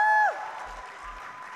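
Applause for drummer Samuel Rusli at a church conference breaks out right after a short fading tone and continues as steady crowd clapping to the end.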